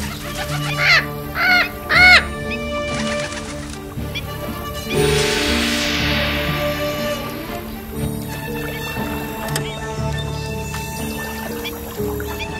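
Three short, bright bird squawks in quick succession, followed by a swell of music and background sounds.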